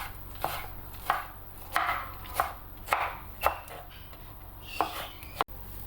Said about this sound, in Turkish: Domateslerim kabuklarını soydum. 2 adet domates kullanacağım. Küp küp doğruyorum.